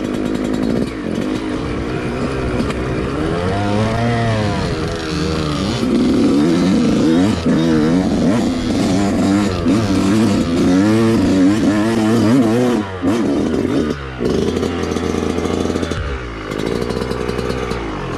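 Two-stroke dirt bike engines buzz and rev on single-track trail, the sharp, raspy pitch climbing and dropping with each throttle change, loud and close throughout.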